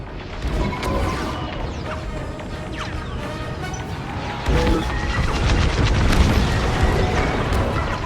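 A dish structure blows apart in the Star Wars: Squadrons space combat game, a loud, sustained crashing roar with a heavier burst about midway that keeps rumbling dense and close to the end, with no talk over it.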